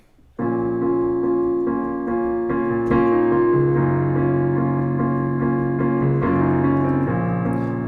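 Piano alone plays the opening of a song: sustained, ringing chords with a gentle looping pattern, close and clear, lasting nearly eight seconds with no voices.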